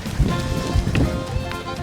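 Steady rain falls outdoors in Okinawa while someone runs through it, footsteps thudding rhythmically beneath the constant wet hiss of the downpour.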